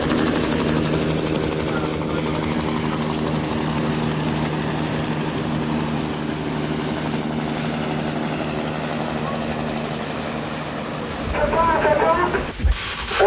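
Steady droning rotor and engine noise fills the clip, a continuous loud hum with a brief rustling burst near the end.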